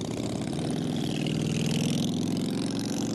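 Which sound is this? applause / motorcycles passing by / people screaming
motorcycles passing by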